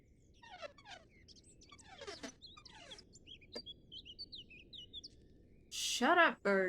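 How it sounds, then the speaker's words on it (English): Birdsong in the horror video game The Beast Inside: a string of quick, high chirps and twittering calls over a low ambient hum, then a louder burst of voice near the end. "Shut up, birds."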